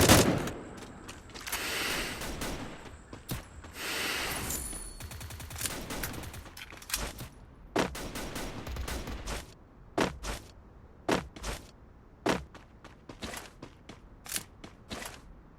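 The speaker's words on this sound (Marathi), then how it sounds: "तर आता दिला आपण त्याला हेडशॉट" Gunfire in the mobile battle royale game Free Fire: dense rapid bursts at first, then sharp separate shots spaced irregularly over quiet game background.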